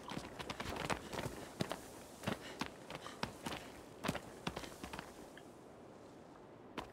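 Horse hooves galloping in the video game Shadow of the Colossus, a fast irregular run of thudding hoof strikes, loud and close, easing off near the end.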